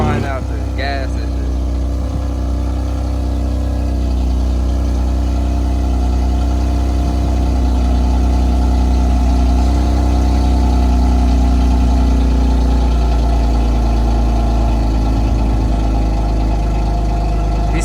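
A BMW M4 fitted with a catless downpipe exhaust idles at a car meet, a loud, steady deep rumble with a low drone throughout, while voices talk over it.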